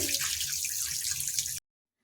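Chicken is washed under a running tap, a steady close hiss of splashing water that cuts off abruptly after about a second and a half.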